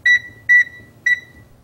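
A Garrett PD6500i walk-through metal detector sounds its alarm as three short, loud, evenly spaced electronic tones over about a second and a half, with quiet background between them.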